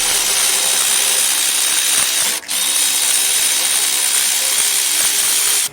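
A power tool, likely an impact driver or drill, spins out cover bolts on a 2006 Hyundai Tucson 2.7 V6 engine: a loud, steady high-pitched whir, close up, with one brief drop partway through.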